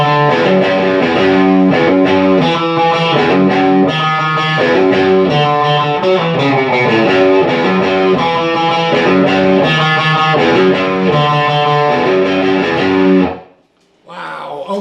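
Heavily distorted electric guitar plays the repeating outro rhythm riff of a song, loud and steady with dense chugging chords, then cutting off abruptly near the end.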